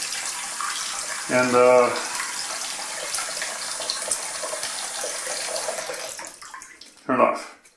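Water runs in a steady rushing stream from a newly installed Jaida tap, close and continuous, with a voice breaking in briefly twice.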